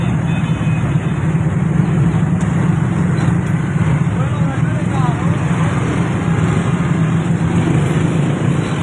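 Large vehicles, including big tractors, stuck in a traffic jam at a road intersection, making a constant loud rumble of idling engines and road noise with a steady low drone throughout.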